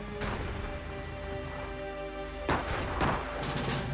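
Rise of Nations: Rise of Legends gunfire: a long-range unit fires a few sharp shots that crack out at irregular moments over a quiet, humming background.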